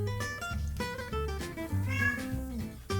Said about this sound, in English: Did the cat just get in